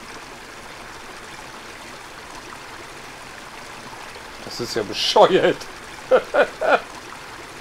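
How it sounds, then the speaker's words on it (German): A stream flows in the video game ARK: Scorched Earth, a steady low trickle of water running throughout, with a voice speaking over it near the end. "Hier kommt einfach Wasser aus nichts."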